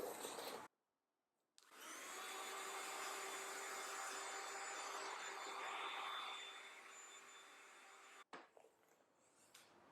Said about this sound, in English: I'm going to blow dry the hair so we can get some quick texture in there.